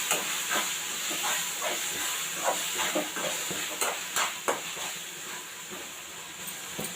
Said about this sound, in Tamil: தக்காளி நல்லா ஃப்ரை ஆகிடுச்சு ஃப்ரெண்ட்ஸ்,